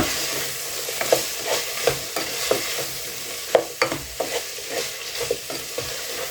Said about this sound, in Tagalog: Then, hahaluin natin.